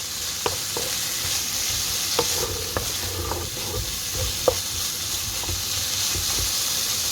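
Tinned fish and potato mixture sautéing in a pan gives a steady broadband sizzle and hiss, broken by scattered sharp scrapes and taps of a spoon stirring against the metal, close and without talk.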